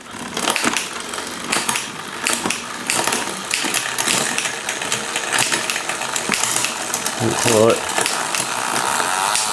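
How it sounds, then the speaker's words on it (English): A bicycle derailleur pushes the chain up onto the big chain ring during a workshop repair, producing a run of clicking, ratcheting metal noise from the drivetrain close by, with a voice speaking briefly. "We'll go for a shift on the big chain ring."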